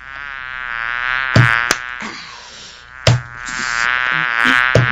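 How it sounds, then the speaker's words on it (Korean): A housefly buzzes steadily close by inside a car, its whine rising and falling continuously, broken by a few sharp bumps and knocks. "차 안에 파리 한 마리가 왔다 갔다 하는 겁니다"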